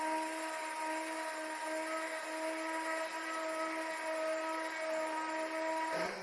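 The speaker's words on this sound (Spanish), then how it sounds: "Aquí iniciaré por el lijado de todas las orillas redondeadas, haciendo que la lijadora esté girando" A power sander runs on the rounded edges of a wooden piece with a steady, continuous whine and whir at moderate level, holding an even pitch until it cuts off at the end.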